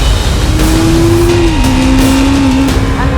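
Yamaha YZF R3 motorcycle engine pulling hard through a corner, a loud, close, steady high-revving drone that holds pitch, dips briefly and then climbs again.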